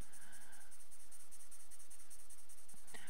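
A colored pencil blender rubs over paper in steady, faint scratchy strokes close to the microphone, with a quiet high whine running throughout.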